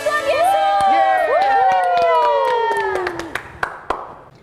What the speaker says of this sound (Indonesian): Sorak-sorai buat Tuhan Yesus.